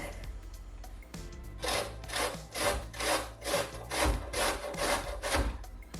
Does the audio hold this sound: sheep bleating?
no